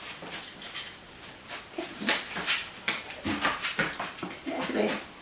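A dog whimpers and snuffles in short bursts during paw-handling training, close by and fairly quiet, with rustling and shuffling movement between the sounds.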